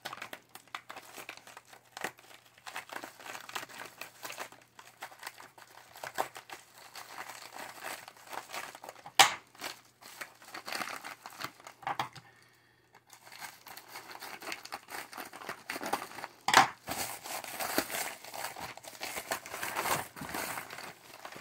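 Paper and plastic wrapping crinkle and tear as a mailed package is opened, steady close crumpling with a few sharp rips and brief pauses, no talking.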